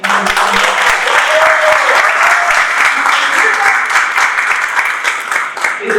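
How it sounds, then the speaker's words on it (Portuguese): A conference audience at a design event in Belém applauds a speaker, a dense, loud wash of clapping that holds steady for the whole stretch, with a few voices mixed in. "Eu queria uma salva de palmas para esse cara"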